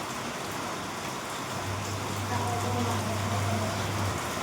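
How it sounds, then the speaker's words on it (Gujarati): Steady light rain falls on a residential street, a continuous even hiss close by with a low hum running through the middle. "વરસાદ ચાલુ છે"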